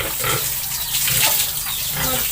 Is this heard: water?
yes